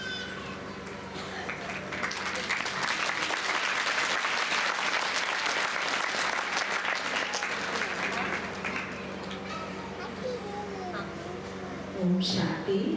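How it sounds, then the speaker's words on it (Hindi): An audience claps at a spiritual stage programme performed by visiting foreign artists, a dense burst of applause that swells for several seconds and then tapers off, with a speaker's voice around it. "अगर पसंद है तो एक हाथ की ताली बजाएं, एक हाथ।"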